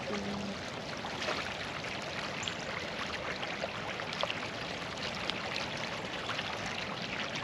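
Creek running high after a January storm, a steady broadband rush of flowing water with no distinct splashes, moderately near and continuous throughout, with no voices.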